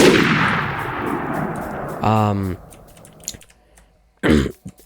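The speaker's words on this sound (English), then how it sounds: "So if you go ahead, you can zoom in and you can shoot." Two sharp weapon shots in a first-person arena shooter game, each a brief loud burst with a quick metallic ring, separated by a couple of seconds after an opening crash, with quieter clicks and game noise between.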